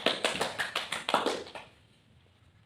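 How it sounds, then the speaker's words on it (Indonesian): A fifth-grade class claps together in an even, quick rhythm of about eight sharp claps that stop abruptly, leaving a quiet room. "Tepuk tangan semuanya."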